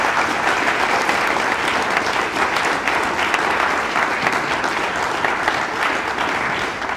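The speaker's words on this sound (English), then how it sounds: "Let's give another applause to both our candidates." Steady, full applause from a studio audience for two District 6 council candidates at a debate, continuous even clapping throughout with no break.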